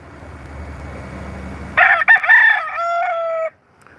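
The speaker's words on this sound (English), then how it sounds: "You just love crowing when I'm outside, huh?" A pet rooster crows loudly and close by, one long cock-a-doodle-doo with a couple of broken notes before the final drawn-out call, after a quiet stretch of faint background noise.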